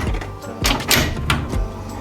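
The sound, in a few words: shower enclosure door hooked onto top track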